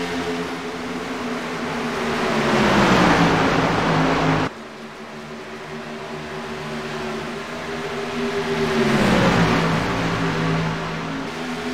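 Racing trucks roar around a track during a race, their engine notes rising and falling as they pass, loud and continuous, with a sharp cut partway through and no voices.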